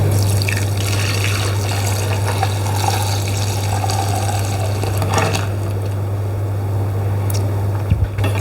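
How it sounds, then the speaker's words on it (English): Cashew and hemp milk is poured into a nut milk bag set in a jug. A continuous liquid splash and trickle sits over a steady low electrical hum, with a small clatter near the end. "Take your nut milk bag, pop it into a large jug or another Thermomix jug, and pour the milk in."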